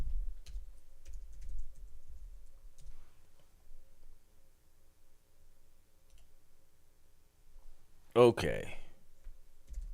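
Clicky computer keyboard typing during a live music-review stream, soft rapid keystrokes spread through the clip, with a brief spoken word near the end.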